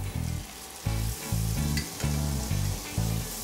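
Onions frying with curry powder in a pan give a steady, close sizzle that swells in several bursts as they are stirred, with tonal music playing underneath.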